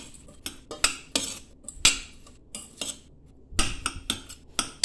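A metal utensil stirs a rice and egg mixture in a bowl, making irregular clinks and scraping knocks against the sides with brief gaps between strokes.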